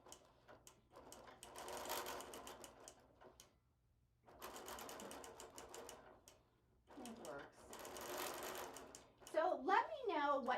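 A sewing machine stitches a quilt in runs of fast, even needle clatter, pausing briefly between runs, fairly quiet and close, with a voice talking over part of it.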